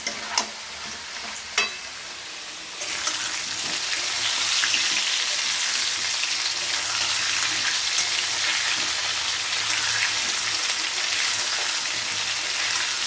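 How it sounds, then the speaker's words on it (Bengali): Potatoes frying in a pan, a few clinks of utensils at first, then a loud, steady, hissing sizzle that holds close and even throughout, without talk. "ভালো করে আলুটা ভেজে নিই।"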